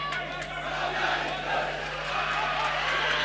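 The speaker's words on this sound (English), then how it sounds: "The SACS boys really getting pumped up now as they start singing, cheering on their team" Schoolboy supporters of SACS chanting and cheering at an under-19 water polo semifinal against Bishops, a steady massed roar of young voices carrying through the whole stretch with a constant low hum underneath.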